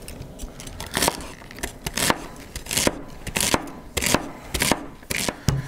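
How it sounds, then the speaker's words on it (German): Celery for a Dutch oven goulash is chopped on a cutting board with a knife, giving a run of crisp, uneven cuts with short gaps between them, close and clear, with no talking. "Als nächste Zutat kommt unsere Staudensellerie."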